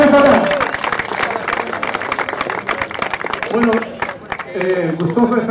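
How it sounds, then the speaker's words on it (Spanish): Audience applause at a tenth anniversary federation event, dense clapping running throughout under a loud voice and some crowd noise, fairly close and strong. "Con mucho cariño, ¡fuerte las palmas!"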